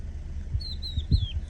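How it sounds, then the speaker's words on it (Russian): A Eurasian skylark sings outdoors in the mountains, a few thin, high chirping phrases heard faintly at a distance over low rumbling background noise. "Жаворонок полевой. Ой, как класс поет."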